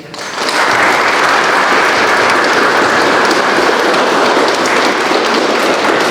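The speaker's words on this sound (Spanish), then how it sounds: "Un aplauso para ella." Wedding guests burst into steady, loud applause that swells within the first half second and holds as a dense, continuous wash of clapping to the end.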